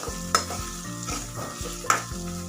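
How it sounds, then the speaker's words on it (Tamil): Chopped onions sauté in a pan for veg ragi soup, a steady close sizzle broken by two sharp scraping stirs of a spoon, with a low background hum and no talking. "ஸோ வெங்காயம் சேர்த்து இது நல்லா வதக்கி விட்டுக்கோங்க"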